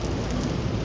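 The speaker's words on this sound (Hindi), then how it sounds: "फिर अभी ऊपर देखा तो ये टैंकी में से पानी आ रहा है देखो।" Water spills from an overhead water tank onto a parked scooter like a rain shower, making a dense, steady hiss of splashing drops that is close and continuous, with no voices.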